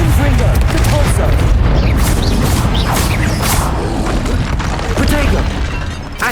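In Hogwarts Legacy, Confringo blasting spells go off as heavy, booming explosions mixed with crashing debris and whooshes. The blasts come loud and close in quick succession, with a voice shouting through the din.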